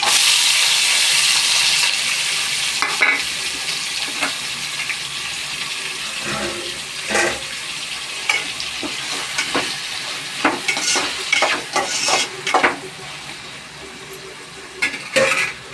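Onion, tomato, green chillies, curry leaves and mustard seeds frying in hot oil, a broad hiss that fades a little, then scattered stirring clatter and crackle close by, with no speech.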